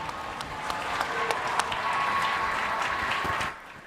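A raucous crowd in a lunchroom cheers and applauds steadily through the SpaceX Inspiration4 rocket launch, with dense clapping and shouts that suddenly drop away near the end.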